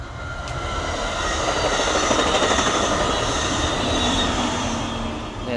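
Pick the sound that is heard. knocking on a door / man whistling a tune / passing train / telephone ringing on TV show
passing train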